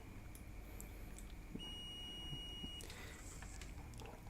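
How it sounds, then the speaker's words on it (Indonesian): A multimeter continuity buzzer gives a faint, steady high-pitched electronic beep for about a second as the probes touch, over a quiet background hum, with a few soft clicks around it. "ketika probe-nya disatukan itu akan terdengar bunyi buzzer"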